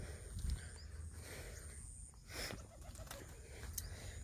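Pigeons cooing softly in the distance over a low, steady background rumble, faint and without talk.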